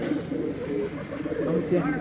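Fighter pigeons coo in soft, low, repeated bursts at a compilation of a large pigeon contest. Someone talks over the birds throughout.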